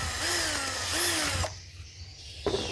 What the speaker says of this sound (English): Start with a small drill bit.